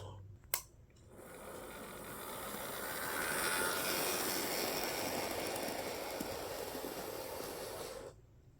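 A Bachmann model train runs steadily with a continuous rolling whir and hiss, building slightly in the middle before cutting off near the end, with a brief click at the start.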